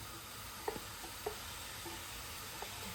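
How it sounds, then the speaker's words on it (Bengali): Onions sizzle softly in ghee in a pan, with a faint steady frying hiss and a few light stirring taps, as khichuri is being cooked. "একটু নাড়াচাড়া করব, পেঁয়াজটা গন্ধ চলে যাবে।"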